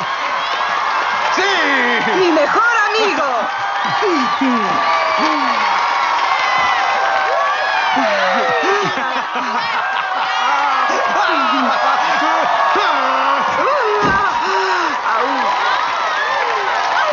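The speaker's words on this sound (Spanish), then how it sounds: "¡Reciban con un fuerte aplauso a Tom Ryan!" A studio audience at a television show cheers, whoops and applauds steadily in a loud, sustained wash of crowd noise while a voice shouts over it.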